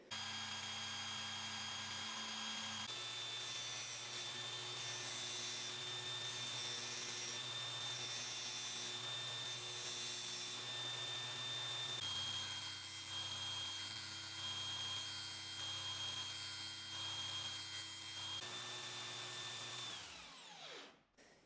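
Drill bit being sharpened on a bench grinder, a loud, continuous motor whine with a steady high tone and a grinding rasp that rises and falls in short pulses as the bit is pressed, then spins down at the end.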